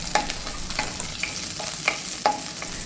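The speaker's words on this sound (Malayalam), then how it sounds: "ഇതിലേക്ക് ഇതേ രണ്ട് മൂന്ന് പച്ചമുളക് ഞാൻ അരിഞ്ഞെടുത്തിട്ടുണ്ട് അതും കൂടി നമുക്കിട്ട് ഒന്ന് വഴറ്റി കൊടുക്കാം" Green chillies sauté with ginger and garlic in a pan for sabudana khichdi, giving a steady close sizzle broken by several sharp spatula scrapes and stirs.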